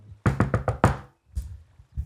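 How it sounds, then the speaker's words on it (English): Five quick, loud knocks rap on a gate in an even rhythm, close and sharp, followed by a softer thud or two after a brief pause. "this is the signature acorn knock"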